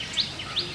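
Birds chirping outdoors, two brief high tweets about half a second apart, moderately loud over a steady hiss of background noise.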